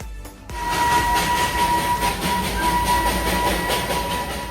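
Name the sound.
Darjeeling steam train running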